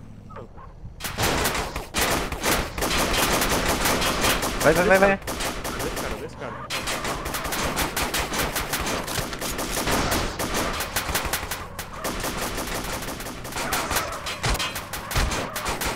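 Repeated bursts of gunfire from the MTA DayZ video game, loud and dense automatic volleys with brief gaps, while players shout urgently over the shooting.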